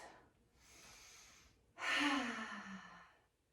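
A long, deep exhale during a beginner yoga breathing exercise, preceded by a softer inhale; the breath out is close and fairly loud, fading gradually over about a second and a half.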